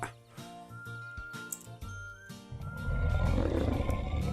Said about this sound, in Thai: โอ้ยมีเสียงคำรามด้วย